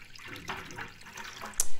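Tap water from a fridge filtering system runs into the tank of a Yokekon cool-warm mist humidifier, a soft, steady pour with a brief louder splash near the end, with no talking.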